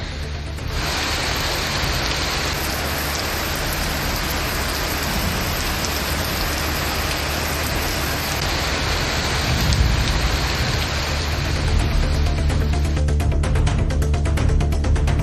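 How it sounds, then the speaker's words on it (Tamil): Heavy rain pours down in a steady, loud hiss, a dense broadband wash that swells slightly toward the end with crackling drops on surfaces. "அரியலூர் மாவட்டத்தில் பல்வேறு இடங்களில் 2வது நாளாக கனமழை கொட்டி தீர்த்தது"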